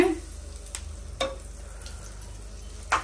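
Butter melts in a pan ready for toasting a veg sandwich, giving a soft, steady sizzle close by, with a few light clicks and taps of utensils.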